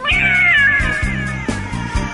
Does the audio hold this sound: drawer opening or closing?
no